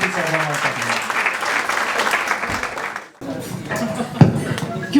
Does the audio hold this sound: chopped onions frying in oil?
no